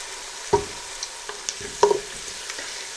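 Chopped onions frying in a pan sizzle quietly and evenly, broken by a few sharp clinks and scrapes of stirring, no voices.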